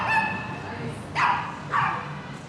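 A small dog in a home in China lets out a few short yappy barks, fairly close, with people talking in the room.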